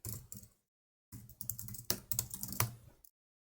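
Typing a username and password on a computer keyboard: a short burst of soft key clicks, a brief pause, then a quicker run of close, crisp keystrokes.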